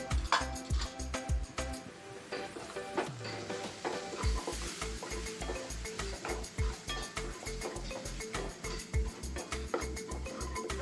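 Red chili powder and turmeric roast with tomatoes in a pan, a steady close sizzle punctuated by a regular rhythm of spoon stirs and scrapes against the pan, with a low hum underneath.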